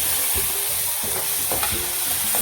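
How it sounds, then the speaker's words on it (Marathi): Tomatoes frying in oil, a dense close sizzle with short spoon-stirring scrapes every half second or so, loud and without voices. "मस्त तेलामध्ये फ्राय झालं ना टमाटो सुटलं ना"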